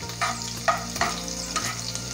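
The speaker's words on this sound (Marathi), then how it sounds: "आता या ठिकाणी आपल्या मिरच्या छान तळून तयार झालेल्या आहे।" Green chilies fry in hot oil for chiwda, a steady close sizzle broken by a few quick stirring clinks and scrapes in the pan.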